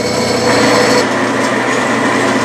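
A Bridgeport milling machine center-drills soft lead with a loud, steady high-pitched motor whine and a cutting hum, close and continuous with no talk.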